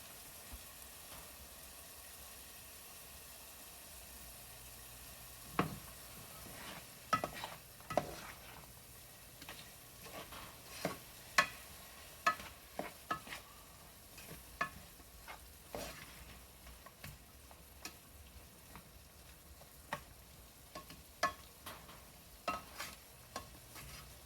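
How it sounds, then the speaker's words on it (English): Chili is stirred in a pot in a home kitchen, quietly: a faint sizzle runs underneath while scattered spoon scrapes and taps against the pot come in irregular bursts, pausing now and then. "It's okay to give short breaks to the stirring."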